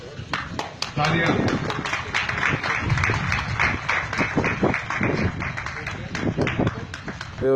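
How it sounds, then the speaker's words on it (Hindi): An audience claps through the whole stretch, dense rapid applause from many hands, loud and steady with a few sharper individual claps standing out. "तालियां।"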